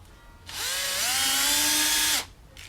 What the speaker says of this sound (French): on va percer pour faire un marquage